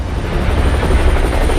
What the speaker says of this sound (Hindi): हवा में गरजते ये हेलीकॉप्टर जब निकले तो लोग देखते रह गए।